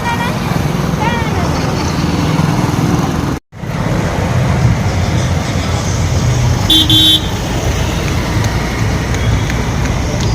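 Busy roadside traffic of cars, bikes and bicycles roars loud and close, with brief horn toots cutting through the continuous vehicle noise.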